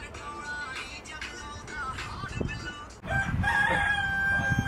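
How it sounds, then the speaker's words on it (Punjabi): A rooster crows loudly nearby in a long drawn-out call, with a second bout of crowing following after a short break over faint outdoor background noise. "ਕੁੱਕੜ ਨੇ ਦੇਤੀ ਬਾਗ"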